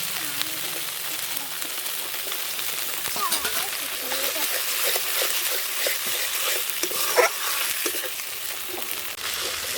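Spices and fish masala with poppy seed paste sautéed in a pan for a village-style fish dish, a continuous close hiss and sizzle with occasional stirring scrapes and no talking.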